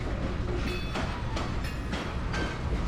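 A freight locomotive rolling through a rail yard, a continuous loud rumble with rhythmic clacking of wheels over rail joints, close by.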